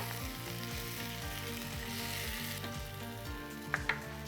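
Ratatouille vegetables and fresh basil fry with a steady, even sizzle in a pan, while repeated scraping stirs roll through it and two quick clinks come near the end.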